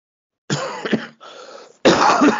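Two harsh coughs close to the microphone, the first a short double burst, the second a single loud hack after a brief pause.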